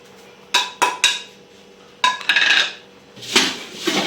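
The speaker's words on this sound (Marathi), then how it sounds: "ते असं पसरून पसरून मिक्स करायचं" Poha chivda is tossed with powdered sugar, black salt and salt in a metal vessel, giving a few sharp clinks and knocks followed by bursts of rustling, scraping stirring, all close and with no talk.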